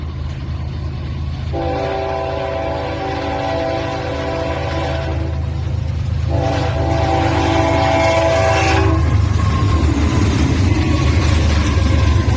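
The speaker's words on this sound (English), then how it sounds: "we have a BNSF war bonnet trailing second on a very long CSX G107. This train was about 220 cars long" A very long CSX freight train of about 220 cars, with a BNSF warbonnet locomotive trailing second, passes with a loud sustained horn blast in two long sections over the steady rumble of wheels and cars.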